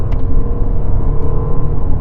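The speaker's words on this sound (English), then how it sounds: "Enough grunt from the diesel engine. You can always hear it, even through the fake noise, just a bit of dieseliness." Audi Q7 SUV diesel engine accelerating, a loud, close, low rumbling drone from inside the car that holds steady throughout the short burst, with no talking.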